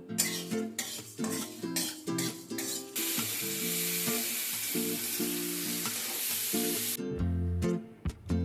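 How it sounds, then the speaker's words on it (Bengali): A pan sizzles while prawn curry with potato, pumpkin and eggplant is being cooked. A loud burst of frying hiss fills the middle stretch, with steady music playing underneath throughout. "ভেজে নেব।"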